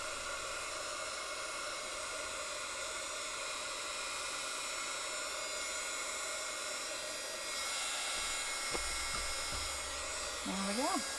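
A heat tool or dryer blows over purple paint on a junk journal page, a steady close hiss and whir that runs throughout, with a faint voice and a few handling sounds near the end.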